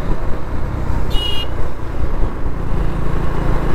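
A KTM Duke 390 BS6 motorcycle fitted with an Akrapovic exhaust cruises along a road with a steady, close engine and exhaust drone mixed with road and wind noise, and a short horn toot partway through.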